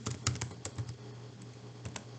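Someone typing Go code on a computer keyboard, a quick irregular run of close, crisp key clicks for a couple of seconds with no voice.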